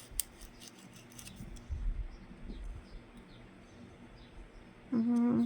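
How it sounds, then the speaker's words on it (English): Scissors snip pieces out of Mylar sheet in a quiet room, a few faint scattered clicks and cuts, with a brief louder rustle near the end. "I'm just going to cut the rest of these pieces out of the Mylar"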